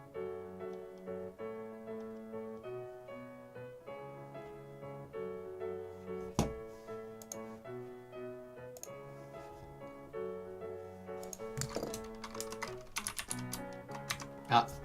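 Typing on a computer keyboard, a steady patter of close key clicks under a sustained musical tone, growing busier and louder toward the end with a few sharper strikes.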